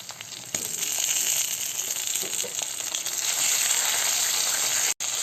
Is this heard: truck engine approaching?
no